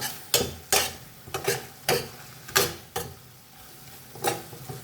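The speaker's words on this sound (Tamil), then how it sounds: "பொரியட்டும் ஃப்ரெண்ட்ஸ்." Food fries in a pan while being stirred, giving a run of sharp scraping, sizzling bursts at an uneven rhythm, close and moderately loud with no talk.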